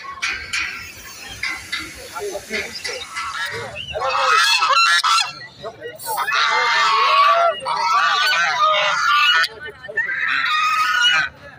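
Geese honk loudly in repeated raucous bursts, close by at a pet market in Dakshineswar, with turkeys, chickens and other fowl calling and people talking faintly between the honks.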